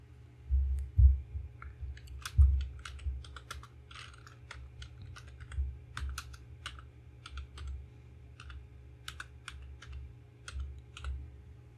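Keys clatter on a computer keyboard as a company name is entered in Tally ERP 9 accounting software, a close, irregular run of light clicks in short bursts with a few louder taps, alone over a low steady hum.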